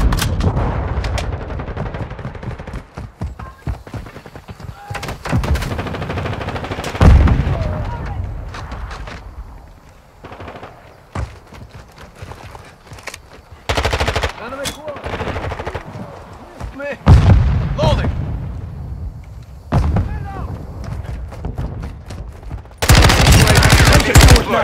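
Bursts of automatic gunfire and single shots crack through a video game firefight, some loud and close and others more distant, with players shouting callouts between the volleys.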